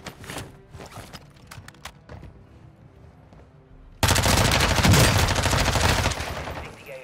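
Gunfire in Warzone 2, including a Lachmann Sub: a few scattered distant shots, then a sudden loud, sustained burst of rapid automatic fire that rattles on for about three seconds before easing slightly.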